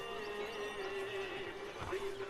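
A horse whinnies in a film scene, a sustained neigh carried over a steady tonal background without speech.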